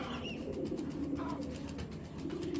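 A pigeon with striking eyes, an original breed, coos softly in a steady low murmur that runs throughout, with light background noise and no speech.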